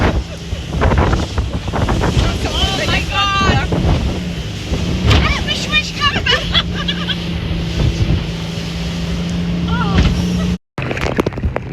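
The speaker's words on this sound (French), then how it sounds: "Il y a des grosses vagues" Heavy sea waves slap and rush around a speeding boat on a ride off Egypt, under constant roaring wind buffeting the microphone, with faint voices in the background.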